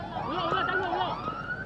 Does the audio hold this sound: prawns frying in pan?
no